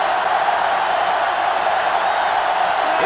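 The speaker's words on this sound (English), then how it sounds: "It's arguably the loudest crowd in the nation, and they are turning it up a notch" Dense stadium crowd roar from a college football video game, NCAA Football 07, during a Penn State home field goal attempt, a steady loud wash of cheering that holds unbroken for the whole stretch, with no clear voice rising above it.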